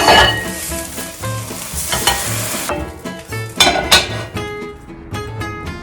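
Thick sauce sizzles and crackles steadily as it heats in a pan, a close, continuous frying hiss with occasional stirring scrapes and no voices.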